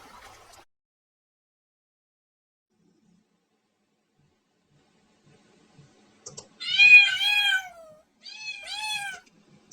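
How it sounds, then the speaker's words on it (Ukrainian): After a long near-silence with a faint click at the start, a cat gives two clear meows close up, the first longer and louder. "Так, це котик."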